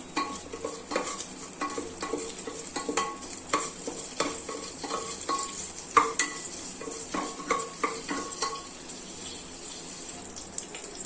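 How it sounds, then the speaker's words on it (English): Bay leaves, cloves and cardamoms are stirred in hot ghee in a pan for khichdi, producing a soft continuous sizzle broken by irregular scraping and clinking strokes of the spoon, close and fairly quiet. "Let's stir it"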